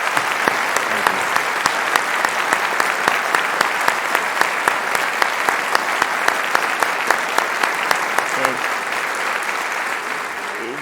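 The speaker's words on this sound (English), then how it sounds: "a round of applause for Mr." An audience at a book author event applauds at length, dense sustained clapping with a few sharper individual claps standing out, holding steady before thinning slightly near the end.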